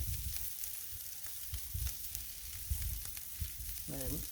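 Plant-based Beyond Sausage brat sizzling on a hot griddle, a steady close crackle with small pops throughout and a short burst of voice at the very end.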